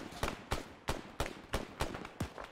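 Gunfire in the military shooter Arma 3, set in Iranian oil fields: a steady series of about eight sharp, loud shots in quick succession, each with a short echoing tail and no voices.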